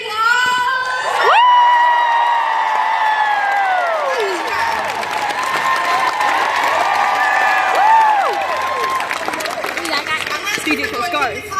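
A fan expo crowd at a Supernatural panel cheers and claps for actor DJ Qualls, with loud whoops and high shouts rising over continuous applause and a voice speaking over the din.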